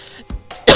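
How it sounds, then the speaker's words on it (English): A person gives a few short, close coughs with throat clearing, the last one sharpest and loudest. "I wonder if anyone's gonna get mad that I keep coughing"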